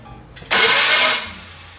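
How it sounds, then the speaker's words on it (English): A 1965 Ford Thunderbird with an FE 390 engine: the starter gives a sudden loud whirring spin that fails to catch the flywheel, lasts under a second, then fades to a lower hum. "Sounds like the starter is not catching the flywheel."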